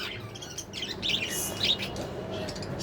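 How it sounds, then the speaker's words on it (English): Baby budgerigar chirping nearby, a few short high tweets over a steady indoor background hiss. "it's this baby bird."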